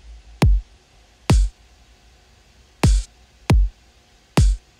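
Layered kick drum and open hi-hat samples in a beat: five punchy kicks hit at an uneven rhythm, several topped with a bright, sizzling open hat that fades after each strike, loud and clean with no talking.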